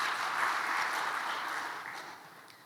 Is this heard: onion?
no